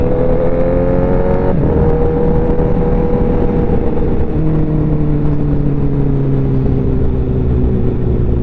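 A Honda CBR 1000 SP racing motorcycle with Ohlins suspension, Brembo brakes and OZ wheels revs steadily up close, its loud engine drone holding rising and falling tones throughout with no one talking.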